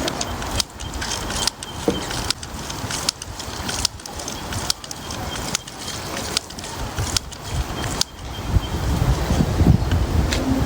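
A hand pump on a Katadyn Vario water filter works in a steady rhythm outdoors, about ten regular strokes with rushing, whooshing pulses, ending in a rougher, splashing noise.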